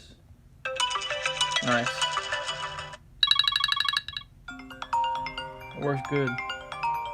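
An iPhone XS ringtone plays through its speaker, a bright chiming melodic pattern in several bursts with short gaps, while someone speaks briefly over it.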